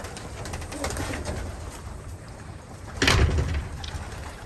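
Racing pigeons in their loft give low, soft coos under a steady background hiss, with a louder burst of cooing and fluttering toward the end.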